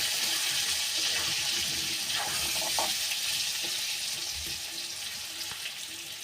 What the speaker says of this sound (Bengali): ঢাকা খুলে একবার নেড়ে দেব।